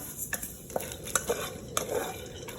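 Sesame seeds dry-roast in a pan while being stirred, giving a soft granular scraping and light rattling of seeds and utensil against metal in uneven strokes, close and fairly quiet, with no voices.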